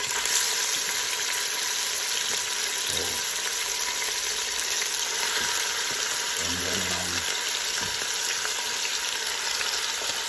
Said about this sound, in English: So just stir it a bit. Get it caramelized.